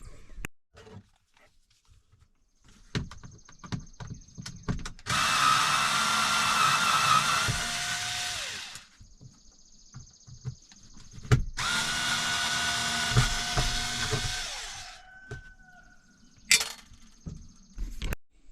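A power drill backs screws out of the camper top bracket on a VW Eurovan, whining in two long loud runs separated by quieter clicks and handling noises nearby.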